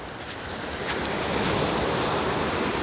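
Sea waves wash steadily onto the shore at Golubitskaya beach, a continuous broadband surf roar mixed with wind buffeting. No voices are heard.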